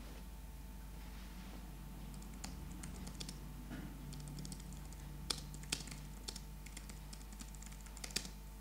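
Typing on a Logitech MX Keys keyboard resting on a lap, soft muted key clicks in irregular bursts, quiet and close with low background hum and no talk.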